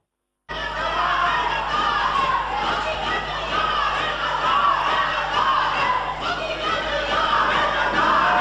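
Crowd of lawmakers chanting slogans together during a joint sitting of Pakistan's parliament, a dense, continuous roar of many raised voices in a large chamber, steady and loud throughout.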